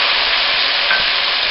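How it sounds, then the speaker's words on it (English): White wine hits shallots in a hot pan, a loud, close, steady sizzle and hiss that fills the short moment, with no talk. "Let's add our white wine to the shallot."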